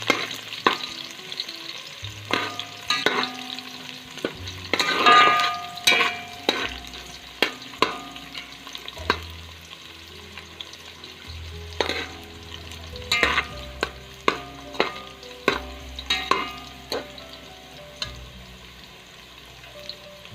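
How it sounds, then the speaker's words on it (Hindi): Chopped onion sautés lightly in hot oil for deghi pulao, with a soft frying sizzle under repeated close metallic clanks and scrapes of a spatula against the pot, and no voices. "ऑयल को गर्म कर लेंगे और उसमें हम जो एक छोटी प्याज कट की है वो डाल देंगे"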